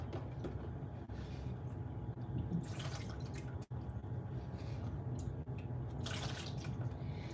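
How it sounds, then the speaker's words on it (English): Water splashes and trickles as paper is rinsed in cold water, with bursts of running water and dripping over a low background hum. "We're gonna give it a rinse in some cold water here."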